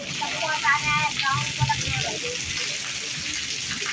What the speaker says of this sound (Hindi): उत्तराखंड में हो गई झमाझम बारिश